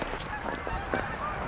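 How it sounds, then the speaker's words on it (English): Several geese honking repeatedly overhead in snowy outdoor conditions, a steady chorus of nasal calls from a flock, heard clearly without voices. "can hear the geese overhead."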